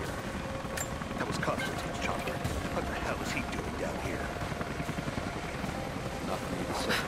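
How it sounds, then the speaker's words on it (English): A helicopter in the video game Rise of the Tomb Raider makes a steady, dense rotor roar that fills the whole stretch at constant loudness, with faint voices mixed underneath. "That was Constantine's chopper."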